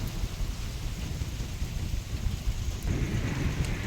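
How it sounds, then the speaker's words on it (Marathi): Heavy midnight rainstorm with strong wind in Ardhapur town, a steady loud roar of rain and low rumbling thunder throughout, intensifying near the end, with no voices. "विजाचा कडकडाट,"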